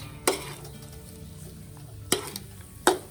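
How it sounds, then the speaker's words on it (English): Ground pork being stir-fried dry in a pan for southern Thai khua kling curry, a low sizzle broken by three sharp scrapes or clanks of a utensil against the pan. "You can see the ground pork start to rolling in the pan because it's well cooked"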